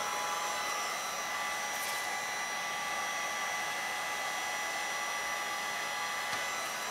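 A hair dryer blows a steady, loud airy roar without a break as it dries fluid art paint on deli paper, with no talk over it.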